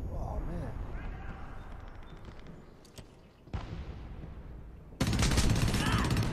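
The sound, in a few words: gunfire in the video game Homefront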